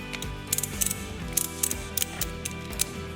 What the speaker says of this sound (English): I can go ahead and start tightening the ratchet strap